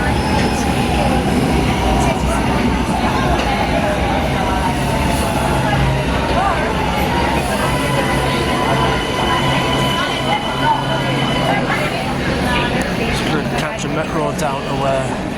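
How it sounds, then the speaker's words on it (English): A metro train travels in Italy with a loud, steady rumble and rattle throughout, and indistinct voices mixed in under the running noise. "Metro down to Cardona."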